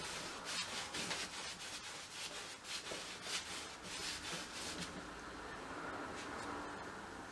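A brush sweeps varnish wet into wet across an oil painting, making soft, close, repeated rubbing strokes in a steady rhythm, quiet and unaccompanied by speech.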